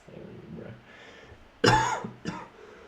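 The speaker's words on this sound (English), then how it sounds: "Sorry, I am coughing." A person coughs sharply at close range, with one strong cough and a shorter second one after quiet breathing, alone without speech.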